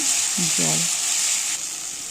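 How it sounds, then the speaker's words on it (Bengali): Chopped tomato fries in a pan for a pomfret fish curry, giving a steady, close hiss of sizzling oil throughout, with a short murmur of a voice near the start. "টমেটোটা দেখছি ভালোই ভাজা হয়ে গেছে"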